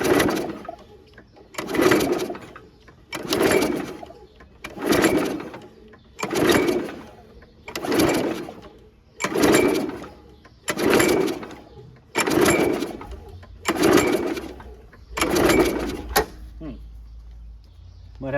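A Toro 22-inch Recycler walk-behind lawn mower with an automatic choke is pull-started over and over, about a dozen evenly spaced rasping recoil pulls of the starter cord, close and loud, and the engine never catches.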